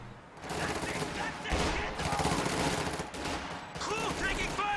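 Bursts of MG34 machine-gun fire in Company of Heroes 2 mix with other battlefield gunfire in a dense, rolling clatter, while a commentator talks over the shooting.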